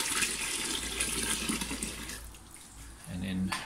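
Boiling water pours into a cooler box over a mix of pineapple skins and cuttings, a steady broad splashing gush that runs throughout, thinning briefly near the end before surging again.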